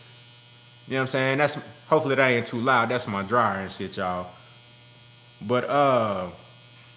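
A home clothes dryer runs with a constant low electrical hum beneath someone talking in bursts, the drone steady and continuing through the pauses in his speech.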